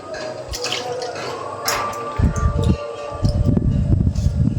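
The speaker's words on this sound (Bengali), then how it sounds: "তারপরে চাল ধুচ্ছি, চালটা ধুয়ে ভিজিয়ে রাখি" Rice being washed in water by hand: swishing and sloshing with drips and splashes, growing louder in bursts toward the end, close by with no talking.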